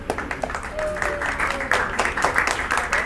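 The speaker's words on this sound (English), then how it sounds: "huge round of applause, please." Audience applause at a stand-up comedy show in a food court in Muscat, Oman, a short burst of scattered clapping from a small crowd with chatter and background noise.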